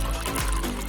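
Water poured from a large jug and swirled into a vortex rushes in a dense, continuous wash with gurgling pulses, loud and close, running steadily through the whole second.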